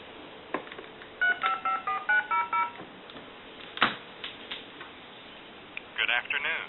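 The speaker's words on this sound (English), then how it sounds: "We'll take our tone dialer." DTMF touch-tones from a tone dialer sent down a telephone line to an old Sumter wood wall telephone: a quick run of about eight short, evenly spaced dual-tone beeps in a steady rhythm, clear and close over faint line noise.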